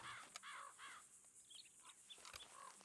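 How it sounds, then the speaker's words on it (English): Crows or ravens caw in Red Dead Redemption 2, several harsh calls in quick succession at moderate distance, with faint bird chirps around them. "They sound like crows or ravens."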